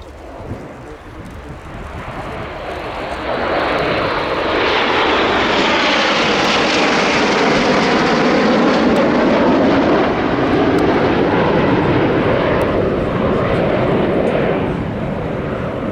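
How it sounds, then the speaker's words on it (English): A formation of Hawker Siddeley HS-1182 Hawk jets flies past at an air tattoo, a broad roar swelling as it nears and fading away while a commentator speaks over the public address. "an aircraft called the Hornet HS-1182. All formation coming in from the right-hand side"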